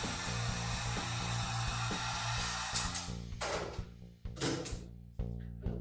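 Heat gun blowing hot air while a Byrna vinyl wrap is applied, a steady whooshing hum that is cut off midway, followed by a few soft handling rustles and taps.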